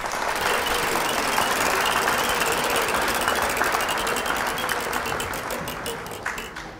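A game show prize wheel spins under loud, continuous crowd applause, its ratcheting clicks becoming distinct and gradually slowing toward the end as the wheel winds down.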